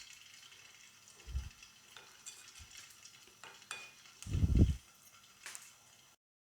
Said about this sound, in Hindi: इसको बीफ को मैं फ़ौरन के फ़ौरन फ्राई कर लूँगी